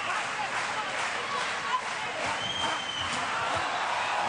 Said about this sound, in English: Crowd trying to rouse Hernandez.